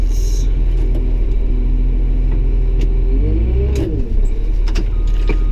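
A front end loader's diesel engine rumbles nearby at a steady low drone, then its pitch rises and wavers as it revs up briefly before settling again.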